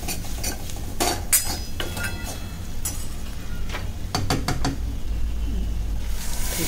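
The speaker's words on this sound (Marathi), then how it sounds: "तेलात छान मसाले परतले ना तरी चांगली होते रश्श्याला." Malvani masala and black peas are sautéed in oil in a pot. A spoon stirs and clinks against the metal in scattered, sharp knocks over a steady low cooking hiss.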